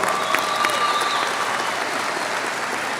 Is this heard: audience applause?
yes